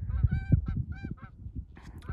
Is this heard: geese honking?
yes